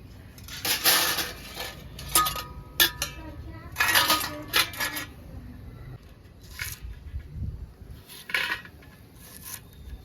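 Onions being chopped for tempering while making mutton drumstick curry, with repeated sharp knife and utensil clinks in irregular bursts, close by.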